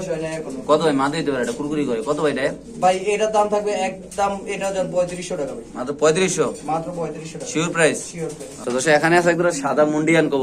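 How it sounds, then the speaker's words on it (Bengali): A pair of white Mundian pigeons coo back and forth close by, their repeated calls overlapping with steady conversation between men throughout. "আপনি দেখতে পাচ্ছেন রানিং পেয়ার নট ডাকাডাকি করতেছে"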